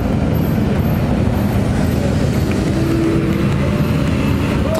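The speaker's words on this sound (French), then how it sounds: "RS6 et alors la R8 Safety Car juste derrière." An Audi RS6 followed by an R8 safety car drives past, a dense, steady rumble of engines and road noise close by.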